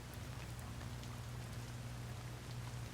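Rain falls steadily in a Minecraft world, a soft, uniform hiss with a low rumble underneath, quiet and unbroken for the whole three seconds.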